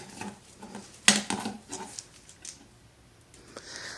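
Small clicks, taps and soft pattering of miniature husky, beagle and terrier cross puppies across a floor, with a sharp knock partway through, close and fairly quiet.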